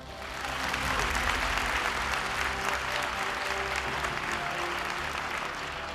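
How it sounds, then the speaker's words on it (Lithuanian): Generous applause from an audience at a Lithuanian Independence Day (February 16) ceremony in Mažeikiai, a full, sustained wash of many hands clapping that swells quickly and holds steady throughout. "O dabar gausūs plojimai."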